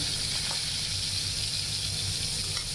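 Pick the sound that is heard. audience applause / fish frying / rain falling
fish frying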